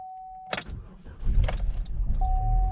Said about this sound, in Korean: 엔진 소리 들어보시면 깜짝 놀랍니다